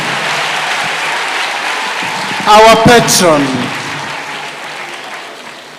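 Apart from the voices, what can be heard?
applause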